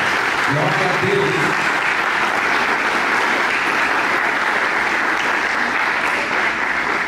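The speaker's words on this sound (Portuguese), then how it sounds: "Se você crê, aplauda ao Senhor." A church congregation applauds during a Portuguese sermon, a thick, sustained roar of clapping that runs evenly throughout, with a brief voice briefly audible near the start.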